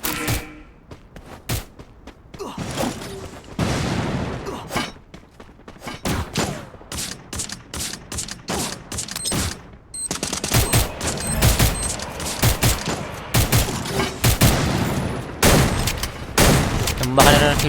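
Rapid bursts of video game gunfire crackle through the whole stretch during a tournament match, dense volleys and single shots overlapping, loud and close with sporadic voices underneath.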